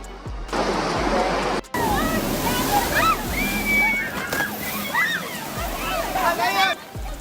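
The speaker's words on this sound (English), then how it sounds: "The waves at Snapper Rocks were the clearest warning." Storm-driven ocean waves at Snapper Rocks during Cyclone Alfred make a constant loud rushing, sloshing wash with dull thuds and bursts of noise, while people talk over it.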